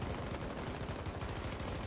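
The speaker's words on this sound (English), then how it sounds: "M7 is reliable. Say what you like, it is a very reliable weapon." Dense, continuous automatic rifle fire from an M7 during a Battlefield 2042 match, rapid overlapping shots with battlefield din, loud and close throughout.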